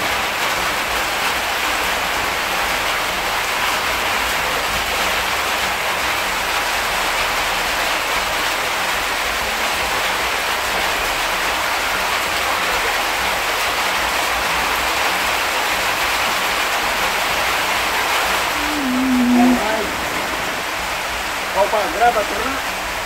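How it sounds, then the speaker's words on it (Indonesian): Steady rain hisses down in a dense, even wash, with a few faint knocks and tones near the end. "Hujan, hujan."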